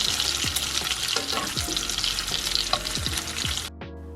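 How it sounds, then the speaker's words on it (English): Small strips of bacon frying and sizzling in a pan, a loud continuous crackle close by with occasional scraping stirs, cutting off abruptly near the end. "My bacon is so tiny now. Oh, I think they're burning."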